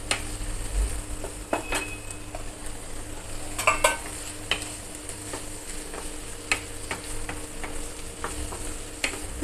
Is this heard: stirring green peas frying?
yes